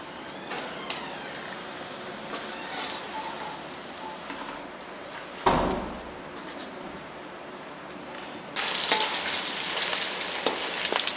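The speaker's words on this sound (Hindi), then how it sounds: "सारी बोटियों को इस तरीके से फ्राई कर लेना है।" Chatkara boti meat pieces frying in hot oil for an Eid ul Adha recipe, giving a steady close sizzle with stirring clatter, a sharp knock midway, and a brighter, louder hiss in the last few seconds.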